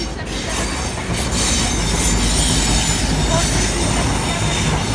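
An HST high-speed train rolls into a station platform in York, loud and close, with a continuous rumble, rhythmic wheel clatter and squealing wheels, a voice faintly present underneath.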